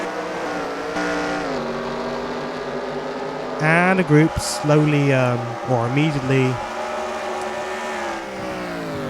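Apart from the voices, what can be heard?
race cars from a racing video game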